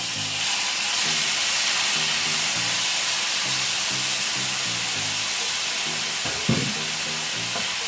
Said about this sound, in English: I'm pretty much sauteing my shrimp.